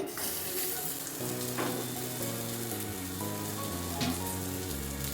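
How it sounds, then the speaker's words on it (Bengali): Egg and potato tikki patties shallow frying in a small amount of ghee over a low flame, a steady close sizzle and crackle throughout, with faint clinks of a utensil now and then. "খুব অল্প ঘিতে এটা শ্যালো ফ্রাই হচ্ছে"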